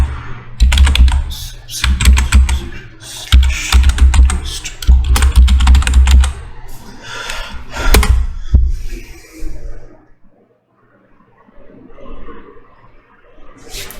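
Someone types a Docker command on a computer keyboard in rapid bursts of close, crisp key clatter with brief pauses, the keystrokes thinning out and stopping near the end.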